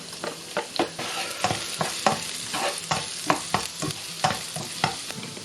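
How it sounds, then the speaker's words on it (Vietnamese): Garlic fries in a little oil in a pan, a steady sizzle broken by a regular series of scraping, clacking stirs of a utensil, close and clear with no one speaking. "Anh chị và các bạn cho tỏi vô trước để phi cho thơm."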